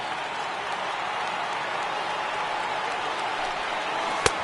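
A large stadium crowd of tens of thousands cheering in the baseball game MLB The Show 19 at a Yankees versus Astros game, a steady wash of roaring noise with scattered claps and one sharp hit near the end.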